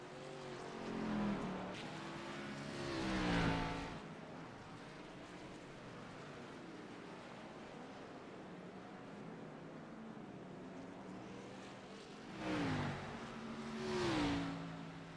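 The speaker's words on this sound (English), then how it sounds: "Like 2 open wheel modifieds coming at you across the start finish line" Open-wheel modified race cars on the Long Beach street circuit, two loud engine surges sweeping past the start-finish line with rising and falling pitch, a steady rumble of crowd and track noise between them.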